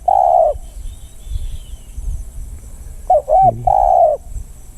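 A spotted dove's mellow cooing, distant, one drawn-out coo, a pause with faint background noise, then a quick series of coos.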